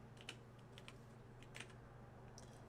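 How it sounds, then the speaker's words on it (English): Someone types on a computer keyboard while working on a character in 3D software, a few soft, scattered key clicks in small bursts over a quiet, low background hum. "Just type in forearm."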